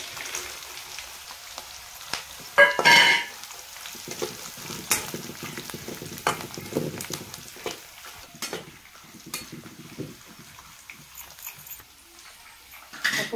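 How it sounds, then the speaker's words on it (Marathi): Crushed peanuts tossed into a hot pan for kande pohe give a soft, steady frying sizzle with a brief louder burst as they land, followed by faint stirring scrapes and intermittent crackles. "आता आपण कुटलेले शेंगदाणे टाकून घ्यायचे।"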